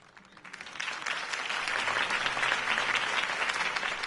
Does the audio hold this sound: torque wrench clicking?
no